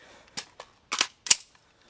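Four sharp AR-15 rifle gunshots crack out in an uneven burst during a speed reload drill, the last two shots close together, each snapping loud and brief against near silence.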